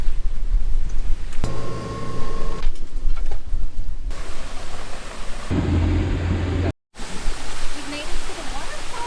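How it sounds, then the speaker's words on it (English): A hidden waterfall reached by boat roars as a broad, steady wash of rushing water, loud and close, with shifting wind and boat noise layered over it and a brief dropout near the end. "We've made it to the waterfall."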